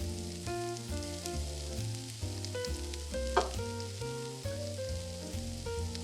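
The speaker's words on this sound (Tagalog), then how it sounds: "Pero itong pork belly po yung uunahin natin, i-render lang po natin yung fats para hindi na tayo gumamit ng mantika" Pork belly renders its fat in a pan over medium-low heat, giving a soft, steady sizzle and spatter with a few brief clinks from stirring, fairly quiet and with no voices.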